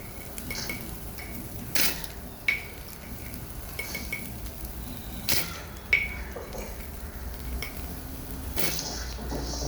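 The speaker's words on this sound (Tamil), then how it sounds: "இதையும் அந்த பெருங்காயத்தோடு சேர்த்து வறுத்து எடுத்துடலாம்." Rock salt and asafoetida dry-roasting in a pan on low heat, faint scraping stirs with occasional sharp clinks of a spoon against the pan.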